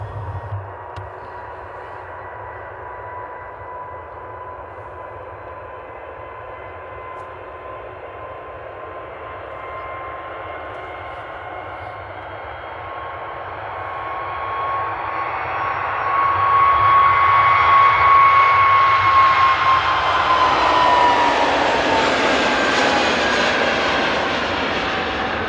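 EasyJet jet airliner taking off at Amsterdam airport, a distant rising whine and rumble that builds steadily into a loud roaring climax near the end, with no voices.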